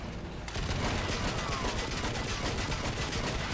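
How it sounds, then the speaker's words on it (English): Armor-piercing rounds fired at a tank in the Battlefield video game, a dense rapid barrage of gunfire that keeps up steadily and loudly throughout. "Let's switch to our armor-piercing rounds here."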